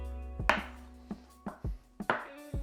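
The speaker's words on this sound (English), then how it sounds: "we're just going to chop it through the middle" A knife cuts through an avocado on a board, several distinct chopping knocks spaced unevenly across a quiet kitchen, close and crisp, with no talking.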